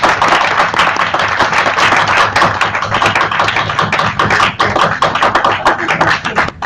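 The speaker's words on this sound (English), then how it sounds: "A warm round of applause for him." Guests at an ethical awards dinner give a loud round of applause, close and dense clapping with sharp individual claps, continuing unbroken for several seconds and thinning slightly at the end.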